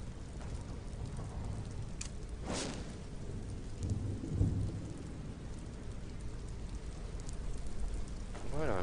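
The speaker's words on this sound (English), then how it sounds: "Step in out of the storm. It's cold out there." Thunderstorm ambience in the video game Skyrim: steady rain hiss with a sharp thunder crack near the start and a low rumble midway, continuous and fairly loud throughout.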